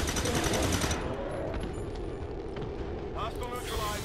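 Gunfire from a squad firing in XCOM 2 bursts out loud and dense through the first second, then gives way to a rumbling, noisy battle bed with scattered crackles, while a voice talks over it.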